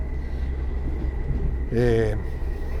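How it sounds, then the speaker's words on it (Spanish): The Tren Maya rolls along its rails with a steady low rumble and faint rhythmic clatter, and a voice breaks in briefly near the end. "Estamos en el Tren Maya"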